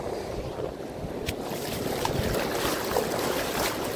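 Incoming high tide rushing over the shore, a dense, continuous wash of moving water with gusty wind buffeting the microphone, steady and fairly loud throughout.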